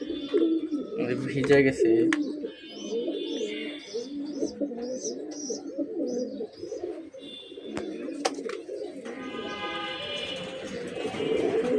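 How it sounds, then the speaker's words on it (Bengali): A pair of new adult silver-coloured pigeons coo softly nearby in repeated low rolling calls, with occasional higher chirps, while someone talks over them. "এক পেয়ার চড়ুই কবুতর, নিউ অ্যাডাল্ট, সিলভার কালার চড়ুই কবুতর।"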